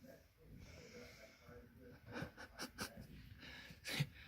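A person asleep after praying snores quietly, with a few raspy, snorting breaths near the middle and a sharper one near the end over soft background noise, faint and close.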